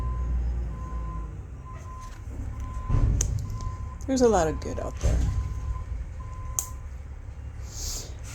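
A truck's reversing alarm sounds repeated evenly spaced beeps behind a person talking, with an engine rumbling low underneath and a few clunks.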